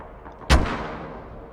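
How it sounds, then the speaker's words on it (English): A single heavy mortar blast in a video game, a sharp booming impact followed by a rumbling tail that fades over about a second. "it's just getting absolutely smacked by mortars"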